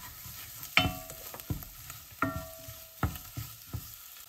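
Ground coriander and jeera powder being stirred into sizzling oil in a pan, with a spoon scraping in repeated strokes roughly every half second or so, close and clear, with no voices.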